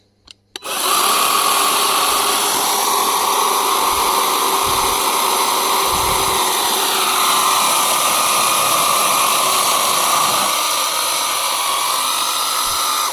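An AL-KO 18 V cordless chainsaw cuts through a fallen cherry tree, its steady high motor whine starting abruptly and running loud and close, with a few low thumps beneath.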